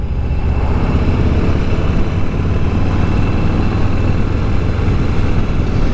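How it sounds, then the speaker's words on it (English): A 2021 Harley-Davidson Softail Standard motorcycle idles with a steady, loud low rumble, heard close and alone with no talk over it. "It's got a nice low rumble to it."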